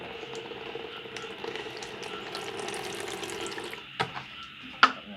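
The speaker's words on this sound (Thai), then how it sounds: "นะครับล้างไปเลยนะครับ ให้น้ำไหลผ่าน" Steady rushing of running water rinsing a Monstera aurea plant, a continuous splashing wash with a couple of sharp clinks near the end.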